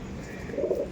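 A pair of Andhra pigeons coo softly, a short low murmur over faint background noise.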